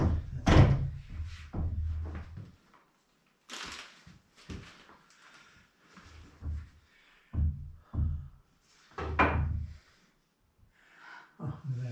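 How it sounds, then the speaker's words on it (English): A sliding door being hung and rolled in a workshop build gives bursts of rumbling, thudding slides and knocks, separated by quiet gaps, with people talking between the movements. "All right, we got the door hung."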